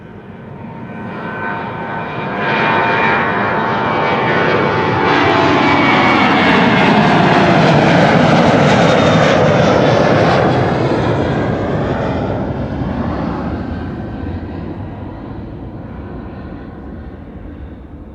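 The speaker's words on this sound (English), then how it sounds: "This is the 737-900" A KLM Boeing 737-900 departs Amsterdam Schiphol for Istanbul, its jet roar swelling loud as it passes close with a sweeping pitch shift, then slowly fading away.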